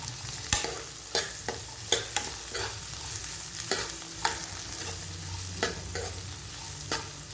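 Small shallots sautéing in a pan for a spinach masiyal, a soft steady sizzle broken by sharp spatula taps and scrapes against the pan every second or so, close and fairly loud with no talking.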